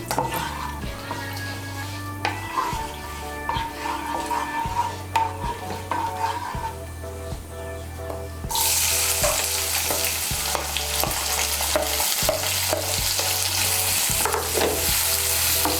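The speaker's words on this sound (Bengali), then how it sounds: "পেঁয়াজ কুচিটাকে লাল করে ভেজে নেব।" Chopped onions fry with whole spices in a pan, making a steady sizzle broken by rhythmic stirring scrapes and taps. The hiss grows noticeably louder and brighter partway through.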